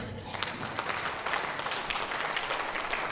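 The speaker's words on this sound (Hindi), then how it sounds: "चलो अपने आप के लिए एक ताली दे दो" A small retreat group in Ranchi gives itself a round of applause during a Hindi church teaching session, a fairly quiet patter of clapping with a few sharper individual claps, continuing throughout.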